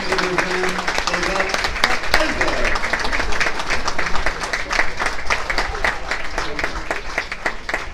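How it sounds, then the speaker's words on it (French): A football crowd at a Lavaur versus Nice match applauds a substitution, scattered clapping with sharp individual claps over a broad stadium murmur, moderately loud and continuous throughout, with commentary voices underneath. "Là, on peut applaudir."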